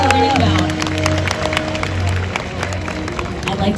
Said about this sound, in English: How about a big round of applause for Iris, Olympus, and their trainers?